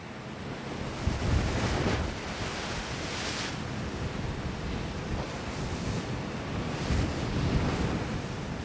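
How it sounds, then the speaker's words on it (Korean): High sea waves and strong wind off Uido island, a continuous loud roar of surf and gusting wind buffeting the microphone, with swells surging at intervals and no voices. "풍랑주의보는 해제가 됐지만 우이도로 가는 바다의 파도는 아직 높습니다"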